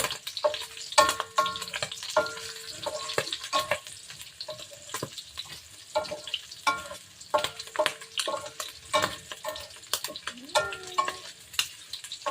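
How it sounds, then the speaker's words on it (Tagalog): Pork frying in its own rendered fat for adobong sitaw, a close, crackling sizzle with frequent sharp pops and spatters, plus stirring clinks scattered through the whole stretch. "Pinapry niya yung sariling mantika niya po."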